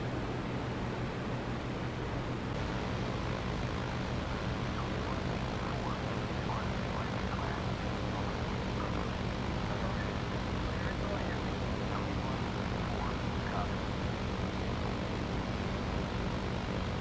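Steady, broadband drone of a light propeller airplane engine in flight fills the whole cabin continuously and loudly, with no pauses, as a small plane cruises within sight of an airfield.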